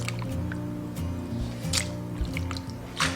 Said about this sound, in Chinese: 一定要用清水给它淘洗几遍